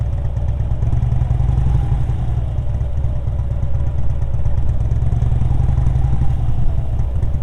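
A motorcycle engine runs steadily up close, idling loudly with a low rumble and only slight rises in pitch as the throttle is eased.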